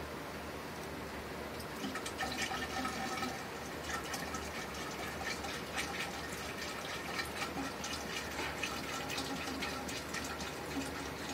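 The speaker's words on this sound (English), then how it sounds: "I'm going to pour some water in the top to create some overpressure to force the gas out." Water poured into the top of a biogas tank, a steady, continuous gushing and splashing fill that runs unbroken for about eleven seconds at moderate, fairly soft level, with no talk over it.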